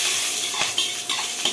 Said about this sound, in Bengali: কালি জিরা ফোড়ন দিচ্ছি, আর কাঁচা লঙ্কা একটা দুটো যে যেরকম ঝাল খায়